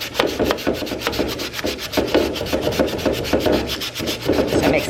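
Sandpaper rubs by hand over chalk paint on a metal cubby shelf to distress it in farmhouse shabby-chic style, making close, steady rasping strokes in a quick back-and-forth rhythm with no voices.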